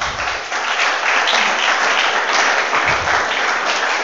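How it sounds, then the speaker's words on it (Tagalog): Church congregation applauding, a thick even roar of many hands clapping together, loud and steady throughout with no speech. "Palakpak."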